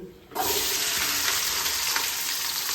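Onions hit hot oil in a pan and burst into a loud, sudden sizzle that stays dense and continuous, heard close up without any voices.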